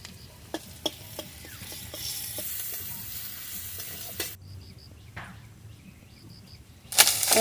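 Garlic sizzles in hot oil for chicken kosha, a close, bright hiss with a few sharp pops and crackles that suddenly drops off partway through, then flares again at the end.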